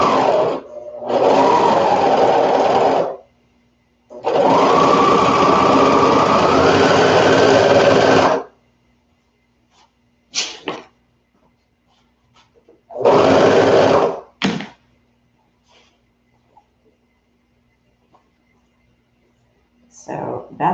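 A serger overlocks the seams of a toddler peasant dress in three loud, close bursts of rapid stitching, separated by quiet pauses with soft handling sounds.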